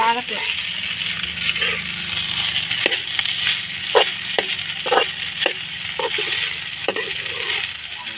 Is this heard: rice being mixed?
yes